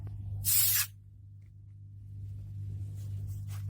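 Naturally fermented goji berry tepache fizzing: a sharp hiss of released pressure for about half a second, then faint crackling effervescence over a low steady hum, with no speech.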